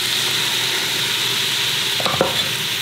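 Beef returned to a pan of well-sweated onions sizzles steadily and close, with a brief clatter of a spoon stirring near the end; no one speaks.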